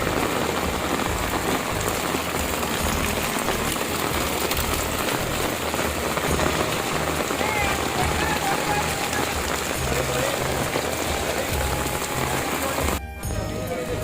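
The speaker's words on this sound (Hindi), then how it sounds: "तो वैष्णो में बारिश आ रही है, खूब भरपूर मज़ेदार बारिश आ रही है" Heavy monsoon rain at Vaishno Devi, Jammu pours steadily and loudly, a dense continuous hiss of drops drumming on surfaces, cutting out abruptly near the end.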